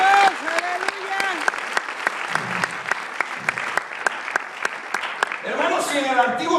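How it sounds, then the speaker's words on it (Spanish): Church congregation applauding during a Spanish-language worship service, with sharp scattered claps mixed with voices and exclamations throughout, swelling toward the end. "¿Cuánto le dan un aplauso al Señor?"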